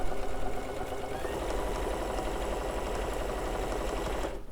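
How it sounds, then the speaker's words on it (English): A sewing machine back stitches fabric set to a 4.0 stitch length, a close, loud, fast rhythmic chatter of the needle that runs steadily and then stops abruptly at the end, with no voices. "I'm going to back stitch to the top."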